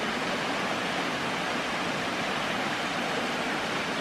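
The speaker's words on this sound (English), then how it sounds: "But this one's nice, and I can see an upper cascades there." Steady, full rushing roar of a waterfall cascade in Bankhead National Forest, Alabama, a constant broadband wash of falling water with no breaks, moderately loud and alone.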